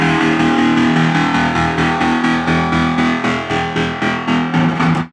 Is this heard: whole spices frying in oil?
no